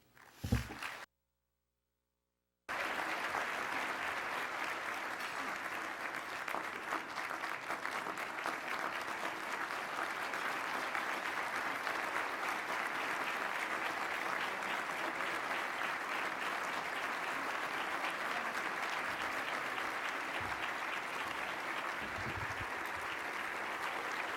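A lecture-hall audience applauds to welcome Lt. Gen. Brent Scowcroft, with a brief bump and gap before sustained, even clapping that carries on steadily for about twenty seconds.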